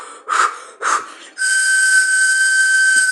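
Two short breathy puffs of steam, then a loud, sustained steam whistle blast held for nearly two seconds.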